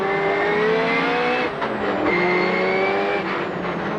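Rallycross race cars, among them a big Chevrolet, battle in a close four-car pack for position, their engines roaring loud and continuous with shifting pitch as they brake and accelerate through corners, with no talk over the din.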